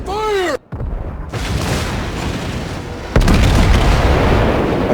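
Naval gunfire in World of Warships, a deep booming salvo with rumbling roar, followed by a second heavier blast rolling into sustained low thunder, loud and close amid game sounds.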